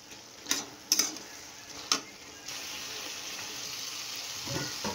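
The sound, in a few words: stirring and frying a dish with poppy seed paste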